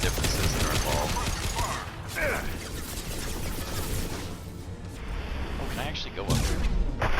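Gunfire in Mass Effect 2 crackles in bursts of rapid shots and impacts amid combat noise, with someone talking over the action.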